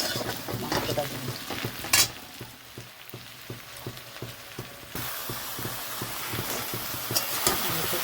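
Mutton sizzles in a kadai over onions fried until reddish and a paste of green chillies, with steady frying hiss and a spoon scraping and stirring in a regular rhythm, fairly close and moderately loud.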